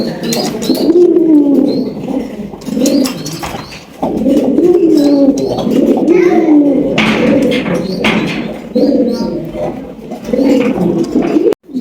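A pair of white King pigeons cooing loudly and close, repeated rolling coos in steady phrases with brief pauses between them, alone without talk.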